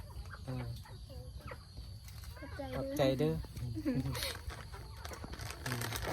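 Chickens cluck at close range in a Lao village, with short squawking calls mixed in while people chat nearby.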